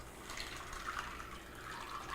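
Water pours from a tap into a bowl of dried chickpeas for soaking, a soft continuous trickling and splashing, fairly quiet and steady for about two seconds with no voices.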